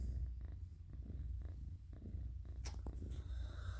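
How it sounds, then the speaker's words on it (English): A soft, steady cat purr rumbles close by, its rhythmic low vibration pulsing evenly with each breath in a quiet room. "got a purr going"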